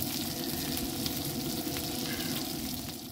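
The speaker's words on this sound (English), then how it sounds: "we're going to cook for another few minutes here in the oil" Food frying in oil in a pan over a campfire outdoors, a steady close crackling sizzle running continuously without pause.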